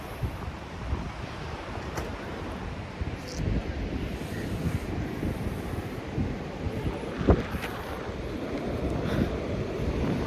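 Steady wind buffeting the microphone on a beach at Byron Bay, Australia, a continuous low rumble with gusts, and faint surf in the background; no talking.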